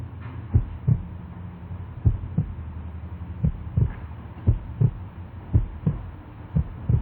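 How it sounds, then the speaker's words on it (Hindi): Rhythmic heartbeat, steady paired low thuds repeating about once per second over a faint hum, loud and close with no talking, like a chest heard through a stethoscope during a bout of anxiety. "ये धक धक की आवाज हो रही है"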